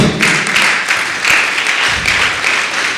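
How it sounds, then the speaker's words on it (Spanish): A church congregation applauds during a Spanish-language sermon, with dense, steady clapping from many hands filling the room throughout. "¿Le puede dar una fuerte palmas al Señor?"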